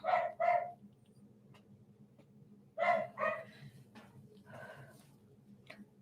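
Several dogs bark indoors in short bursts: a double bark, a pause, then another cluster of barks and a single yip, moderately loud over a low steady hum, with no talking.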